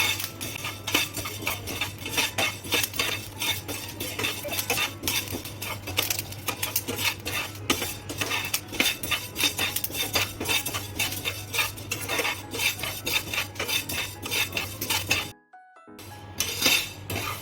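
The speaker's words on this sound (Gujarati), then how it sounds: "આ રીતે શેકી કાઢવાની મેથી" Fenugreek seeds roasted dark in a pan, stirred continuously with a metal spoon: steady close scraping and clinking of utensil on cookware throughout, with a short break near the end before the stirring resumes.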